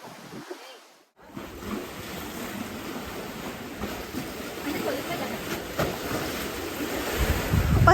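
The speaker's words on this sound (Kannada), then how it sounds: "ಸೊ ನೀರು ನೋಡಿ ಹೆಂಗೆ ಬರ್ತಿದೆ." Water at the Bhadra backwater streams past as a steady rushing wash, mixed with wind buffeting the microphone, and it grows slightly louder toward the end after a brief quiet gap near the start.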